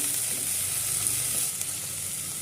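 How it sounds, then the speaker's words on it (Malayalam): Tomato frying in a pan of green peppercorn chicken curry gives a steady, close hiss of sizzling oil with faint stirring underneath, continuous and without talk. "നമ്മൾ എടുത്ത് വെച്ചിരിക്കുന്ന ഒരു തക്കാളി ഇട്ട് കൊടുക്കുന്നത് നമുക്ക് ഇട്ട് കൊടുക്കാം എന്നിട്ട് നല്ലപോലെ ഒന്ന് ഇളക്കി കൊടുക്കാം"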